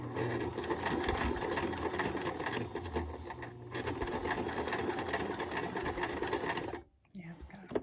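A sewing machine runs loudly and steadily, stitching with a fast mechanical rattle, then stops abruptly near the end.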